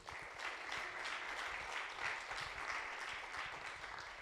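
An audience applauds a student presenter as he comes up to speak, a steady wash of clapping that holds at an even level for the whole stretch.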